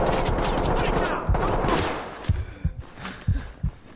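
Gunfire in the tactical shooter game Ready or Not: a dense, loud burst of rapid shots for about two seconds, then several separate heavy thuds spaced apart.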